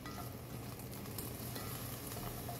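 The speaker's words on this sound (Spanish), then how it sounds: "con esa grasa vamos a sofreír celery," Celery, carrot and onion sautéing in leftover beef fat in a pan, a dense continuous sizzle and crackle, close and even throughout, with no voices.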